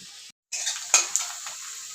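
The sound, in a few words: ginger, garlic and cumin paste frying and being stirred in pan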